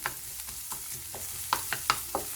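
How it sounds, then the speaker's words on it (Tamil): Onions and green chillies sautéing in a pan for a vegetable salna, a low sizzle under a string of spatula scrapes and taps that grow sharper and more distinct toward the end, with no talking. "நல்லா வதங்கணும் வெங்காயம்"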